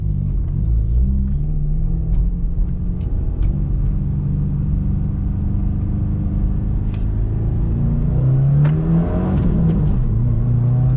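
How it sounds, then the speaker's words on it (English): A Subaru WRX exhaust rumbles loudly from inside the car while driving, a steady deep drone with engine pitch rising and falling as it revs, with no talking. "that exhaust just sounds killer"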